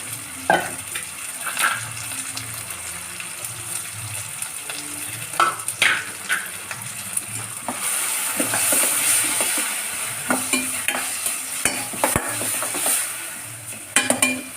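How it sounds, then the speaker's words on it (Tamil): Green chilies, mint and coriander sizzle and fry steadily in a hot pan, with a spoon stirring and scraping at intervals; close and fairly loud, no talking. "பச்சை மிளகாய், புதினா, கொஞ்சம் கொத்தமல்லி, அதை போட்டு நல்லா வதக்கிடணும்"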